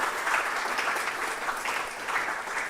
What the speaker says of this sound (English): can we give JICA an applause for agreeing to fund us?